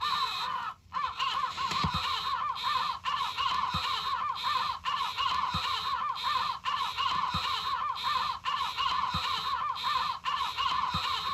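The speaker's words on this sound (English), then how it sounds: "at the end of side B, there is a locked groove of various bird and crow noises" Crow and bird calls repeating from a locked groove at the end of side B of a vinyl record, a looping pattern of loud caws cycling about every second with a faint surface hiss and no talking.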